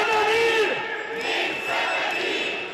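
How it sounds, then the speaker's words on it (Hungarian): A large protest crowd in Wenceslas Square, Prague, chants in unison, a loud sustained mass of voices rising and swelling for a few seconds with no single speaker standing out. "Békét akarunk, skandálta a tömeg a prágai Vencel téren szombat délután."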